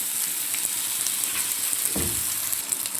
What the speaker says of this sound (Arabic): انا بس عايزاه يدبل وريحته تطلع